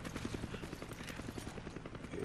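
A helicopter in the Resident Evil 5 video game chops with a rapid rhythmic rotor thud under a broad engine roar, fairly steady and moderately loud against game ambience.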